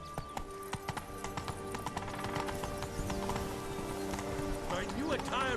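Galloping horse Roach in The Witcher 3, with rhythmic hoof clip-clops close by over a busy game soundscape and a neigh near the end, while a voice talks over it.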